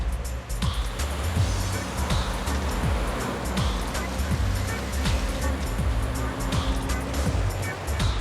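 Flash flood water rushes in a constant roar on a road in Egypt. Repeated splashes and engine-like swells pass through it, and speech-like sounds are faintly present.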